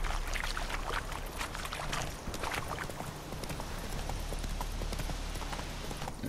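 Roach, the horse in The Witcher III, gallops with fast, steady hoofbeats that carry through the whole stretch, set against a continuous low rumble of game ambience.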